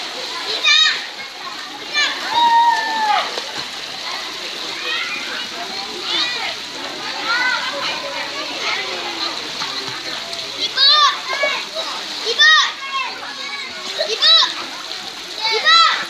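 A child swims and splashes in water, with repeated splashes and sloshing at close range while children's voices chatter and call out throughout.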